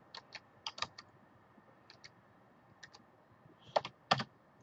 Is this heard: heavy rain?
no